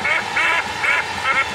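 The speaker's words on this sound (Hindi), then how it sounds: "बतख है" A cartoon duck from Oggy and the Cockroaches quacks loudly four times in a steady rhythm, each nasal quack evenly spaced and close, with no talking over it.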